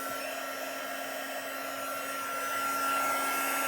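An embossing heat tool warms up for stamping with a steady, loud blowing whir and a constant tonal whine, running alone and unbroken and rising slightly toward the end.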